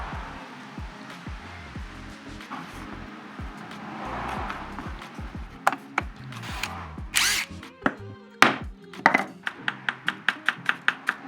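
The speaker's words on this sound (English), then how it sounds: "I'm just gonna use some screws, countersink them, and just secure these to this." A power drill drives countersunk black floor screws into a wooden board, with short bursts of whirring early on, then a run of sharp regular ticks and clicks near the end.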